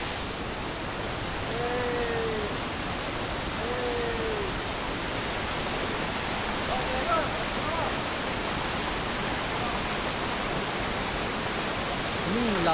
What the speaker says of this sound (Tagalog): Lakas ng agos ng tubig,